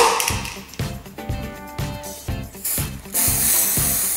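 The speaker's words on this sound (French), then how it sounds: "je vais y vaporiser mon spray or. Je le secoue avant." A can of gold food spray for decorating macarons is shaken hard, its mixing ball rattling in a quick, loud, close rhythm, then released in a steady hissing spray at the end.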